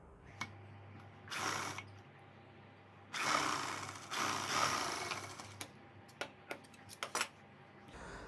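Sewing machine stitching a blouse: short mechanical whirring runs of about a second alternating with quiet gaps and sharp clicks, close by and without speech.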